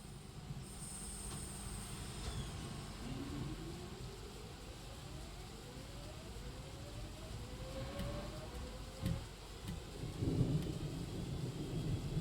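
Rain and thunder in the Train Sim World 6 video game, with a steady hiss of rain and low rumbles under the train's running noise and faint rising tones, with a louder thunder crack near the end.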